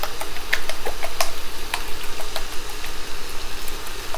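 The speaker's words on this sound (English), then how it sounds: "you wanna get this whisked until the yolks are nicely blended" Eggs and heavy cream are whisked in a bowl for a frittata, giving quick, irregular clinks and taps of the whisk over a steady low background hum.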